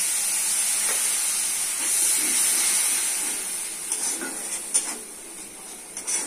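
A little water poured into a hot pan of spices with cumin powder and salt, giving a bright steady hiss and sizzle that slowly fades, with a few soft utensil clinks near the end.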